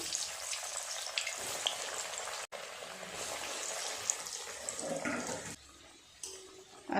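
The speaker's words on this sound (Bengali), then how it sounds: "তেল গরম হয়ে গেলে এক এক করে দিয়ে ভেজে নেব" Vegetable chops dropped one by one into hot oil in a kadai, giving a loud, continuous bubbling sizzle that eases off near the end, with a brief sharp knock.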